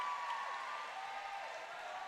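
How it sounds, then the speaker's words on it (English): A packed basketball crowd on a Hall of Fame senior night roars and applauds in a steady, continuous wash of cheering that fills the gym from start to finish. "What a marvelous crowd."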